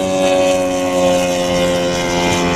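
A loud, steady, droning hum comes from an Evinrude G2 jet outboard boat engine running close by, with an unbroken tonal whine throughout.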